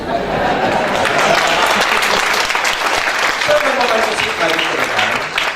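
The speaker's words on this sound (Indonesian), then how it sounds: "beri tepuk tangan untuk Ibu Yongki." A church congregation breaks into loud, dense applause that holds steady throughout, close and full.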